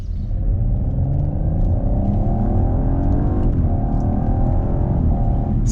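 A 2020 Audi RS4 Avant on the move, its engine a loud, continuous close rumble with rising and shifting revs through gear changes, no voices over it.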